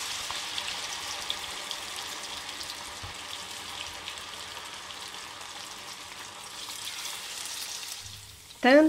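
Pumpkin slices coated in thin tempura batter frying in hot oil, a steady soft crackling sizzle throughout, ending with a short louder burst.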